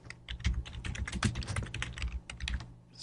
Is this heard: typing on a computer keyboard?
yes